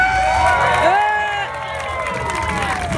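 A street-performance crowd in Key West claps and cheers in a loud burst, voting for a knife act, with voices and shouts mixed into the dense hubbub throughout.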